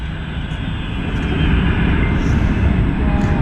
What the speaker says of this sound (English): That's a jet landing.